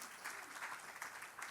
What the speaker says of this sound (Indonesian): Tepuk tangan sama Tuhan Yesus.